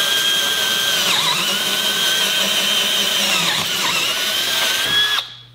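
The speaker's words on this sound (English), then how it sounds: "let's see if we still have some capabilities, like doing some drilling at a 90-degree angle" A Milwaukee M12 4-in-1 installation drill driver, set to speed 1, drills at a 90-degree angle with a loud, steady, high motor whine that dips briefly under load before spinning down and stopping.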